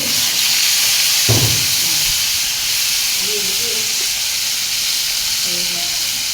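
Pieces of fish fry in hot oil, a loud steady hiss of sizzling close by with a thump early on and faint clinks, no speech over it.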